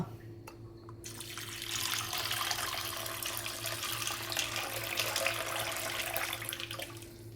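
Drinking water pours steadily into a container of rajma (kidney beans) set to soak, a continuous splashing rush that starts after a brief pause and holds at an even level.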